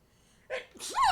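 A single sharp human sneeze, a quick intake of breath followed by a loud, close burst, in an indoor room.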